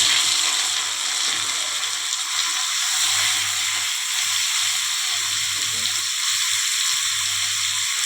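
Boiled potatoes and green jackfruit frying in a pan, a steady dense sizzle running throughout with a low hum underneath, close and fairly loud, no talking.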